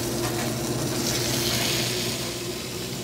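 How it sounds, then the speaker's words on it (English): A marinated duck leg and thigh coated in cracked pepper sizzles steadily in a hot pan as the skin crisps: a continuous, close frying hiss with no talk over it. "That's the sizzle of life."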